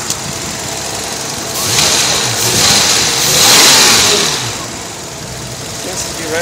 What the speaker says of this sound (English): The motor is fully warmed up and the secondary fans kicked in.